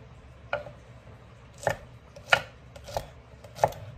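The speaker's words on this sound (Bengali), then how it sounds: "আমি কাটাকুটা শেষ করি" Vegetables chopped on a board with a knife, five distinct, evenly spaced thuds with pauses between them, close and clear in a quiet room.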